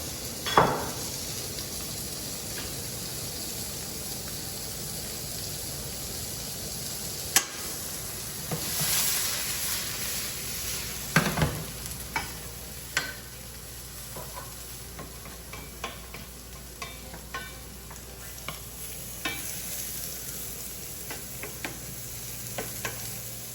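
Lean dried Haut-Valais bacon sizzles steadily in a pan with just a little oil, a continuous crackling hiss broken by occasional clinks and scrapes of a utensil.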